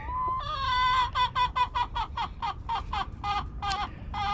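A rooster and hens in a backyard flock cluck in a quick run of about a dozen short, close calls, fairly faint overall, with no speech.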